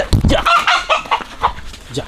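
A large rooster clucks in a rapid run of loud, close, throaty calls, while people talk nearby.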